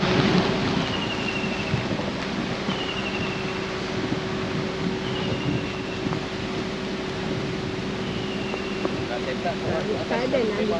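Steady rain pours at a campsite, a constant dense wash of drops on surfaces with occasional low rumbles, close and continuous, while people talk over it.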